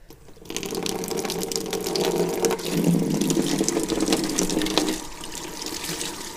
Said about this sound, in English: just wash off the little spiky bits that are on the outside of your cucumber